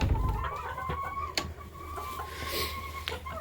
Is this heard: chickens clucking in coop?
yes